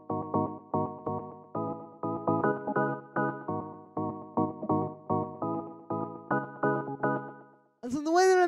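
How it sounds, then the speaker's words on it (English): Analog organ chords for a classic deep house track pulse in short, rhythmic stabs, dense and upfront, repeating in a steady groove for several seconds before a brief voice cuts in at the end. "So then the next thing that we have here is this organ, which sounds like this."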